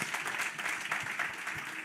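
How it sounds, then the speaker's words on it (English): A crowd applauds steadily, many hands clapping at once in a dense, continuous patter that holds at an even level throughout. "Would y'all clap your hands for Dr. Thurman, everybody, please?"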